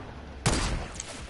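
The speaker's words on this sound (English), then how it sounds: "I'm about to snipe someone." A single sharp sniper rifle shot cracks out in a Fortnite-style shooter, one loud close report with a short ringing tail and a faint echo just after.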